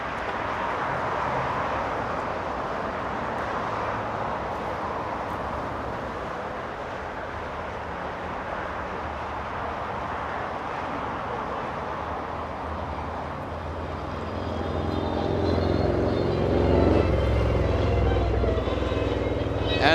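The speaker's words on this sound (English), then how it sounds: "That's a 777 taxiing on Bravo." A Boeing 777 airliner taxis along taxiway Bravo at Los Angeles International Airport, a steady distant jet rumble that grows louder and deeper toward the end.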